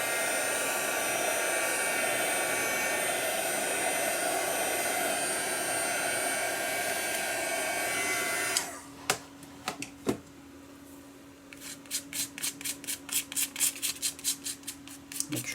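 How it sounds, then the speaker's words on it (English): A heat tool drying freshly applied gesso runs as a loud, steady blowing roar for about eight seconds, then cuts off, leaving quieter scattered taps and handling noises. "And a little heat to dry this a bit."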